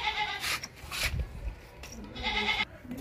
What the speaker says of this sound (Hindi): खूबसूरत बकरा, 2 दांत